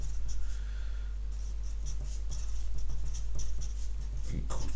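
Pen or pencil writing out a projectile-motion physics answer by hand, with close, soft scratchy strokes in short irregular bursts over a low steady hum.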